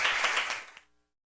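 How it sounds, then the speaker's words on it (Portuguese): A short burst of applause from a municipal chamber session audience, close clapping that dies away within a second into silence. "pedimos uma salva de palmas"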